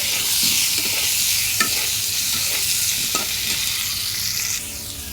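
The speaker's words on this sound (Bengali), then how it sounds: "5টা ডিম বোনা করলাম" Five eggs sizzle and fry in hot oil as they are scrambled, a steady close crackle with occasional scraping stirs of a utensil in the pan.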